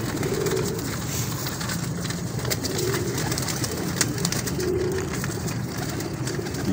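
Star pigeons in a fancier's loft give low, throaty coos, three or so soft rolling phrases spaced a couple of seconds apart, near and steady against a hissy background.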